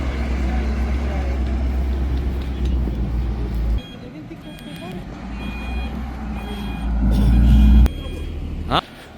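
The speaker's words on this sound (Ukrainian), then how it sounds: "що машина заїжджає" A vehicle drives into an auto salvage yard with a low engine rumble that rises and falls. Short, high electronic beeps repeat partway through, and the sound ends with a sharp clank.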